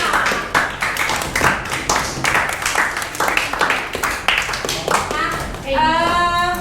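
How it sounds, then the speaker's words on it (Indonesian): A school class claps for a presenting group during a teacher training session, with distinct rhythmic claps from a small group close by, then a voice speaking at the end. "Tepuk tangan untuk kelompok 5."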